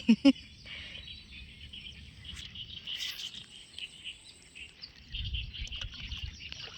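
Birds chirp and twitter steadily around a pond at dusk, a thin high chorus with insects buzzing underneath, a couple of sharp knocks at the start and some low rumbling noise later.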